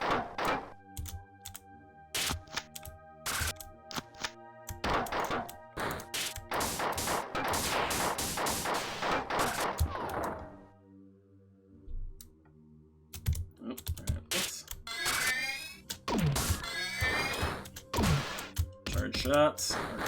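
Gunfire in the sci-fi shooter Marathon: sharp, rapid bursts of shots in clusters with brief pauses and a quieter stretch midway, metallic ringing tails, mixed with other game effects and someone talking.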